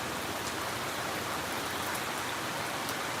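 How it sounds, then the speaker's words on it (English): A heavy rain downpour roars as steady dense hiss, with close drops pattering on surfaces throughout, constant and unbroken with no voices. "now it's like downpouring again"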